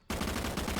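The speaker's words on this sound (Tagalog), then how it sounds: "Ang lakas pumawas ng mga baril nila." Rapid automatic gunfire in a video game, loud and close, a dense unbroken burst of shots starting abruptly and continuing without pause, with no voices.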